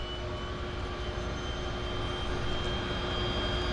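A floatplane engine starts and settles into a steady, fairly faint drone at Vancouver's downtown harbour airport, with a constant broadband rumble and no talk.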